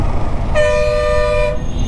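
A train horn near an underbridge railway crossing in Vijayawada sounds one sustained tonal blast for about a second over steady traffic and ambient rumble.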